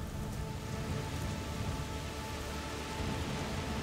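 Steady rain pouring in the video game A Plague Tale: Requiem, a dense constant hiss of drops on surfaces without a break.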